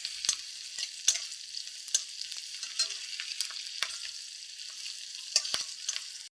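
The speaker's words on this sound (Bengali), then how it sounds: "এবার এর মধ্যে দিয়ে দিচ্ছি কুচনো পেঁয়াজ, দিচ্ছি 4-5টা চেরা কাঁচা লঙ্কা" Chopped onion and slit green chilies fry in a pan, giving a soft, continuous hiss that is broken by sharp clicks and taps from a stirring spoon. Nobody speaks.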